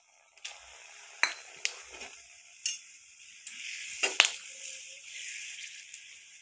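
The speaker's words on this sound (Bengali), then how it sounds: "তেল গরম হয়ে গেছে, আমি এবার ফোড়নের জন্য দিয়ে দিচ্ছি তেজপাতা, শুকনো লঙ্কা, আর গোটা গরম মশলা।" Bay leaves, dried red chillies and whole garam masala spices sizzle faintly in hot oil, punctuated by several sharp spoon taps and scrapes against the pan, with no talking.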